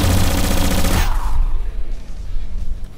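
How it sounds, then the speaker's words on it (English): A loud, dense burst of rifle gunfire in the ACE Academy video game, a thick blast for about a second that cuts off sharply, followed by a fading rumble and low echoing tail. "I shoot one test shot and hit it in the chest"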